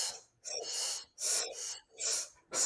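Audible breaths in a breathing demonstration, with a relaxed throat on the inhale and the exhale. Four or five long, airy breaths alternate in a steady rhythm, close and clear, with short pauses between them and no talking.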